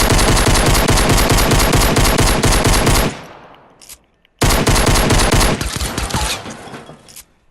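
Rapid pistol fire in a video game, a dense stream of fast trigger pulls that stops abruptly, then a second loud burst after a short gap, with no talking.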